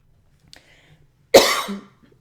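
A single sharp cough, close and loud, bursting out after near silence and trailing off quickly.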